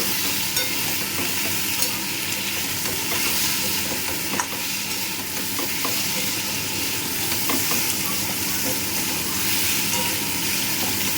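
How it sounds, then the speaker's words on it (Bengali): Vegetables sautéing in a pan with chili powder and sugar, a dense, steady sizzle and hiss with occasional light stirring knocks, close and even throughout. "গুঁড়ো লঙ্কা এক চামচ চিনি সব কিছু দিয়ে খুব ভালো কষিয়ে নেব"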